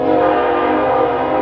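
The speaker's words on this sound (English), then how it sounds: "Is there a train about to go into this?" A train horn blares loud and close in one sustained, steady chord that fills the whole moment, with rail rumble underneath and no voices.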